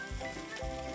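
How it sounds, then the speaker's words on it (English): Fish fries in butter in a cast iron pan, a steady close sizzle with a couple of brief louder crackling bursts. "I put some salt and pepper on the fish, put it in my nice cast iron pan."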